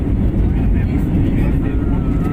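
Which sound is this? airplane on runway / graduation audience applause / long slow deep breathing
airplane on runway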